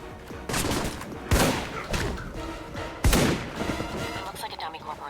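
Gunfire in the video game Alpha Protocol, set in Rome: repeated sharp shots and bursts of fire with two heavier bangs, mixed with talk and game noise.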